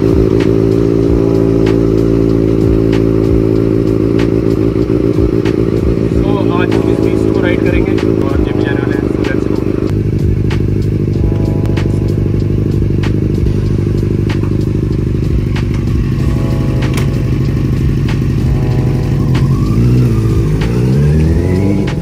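A Benelli 600i motorcycle engine revs up and down for about twenty seconds, a loud, rough, continuous roar with shifting pitch and rattling mechanical clatter, running under and around someone speaking.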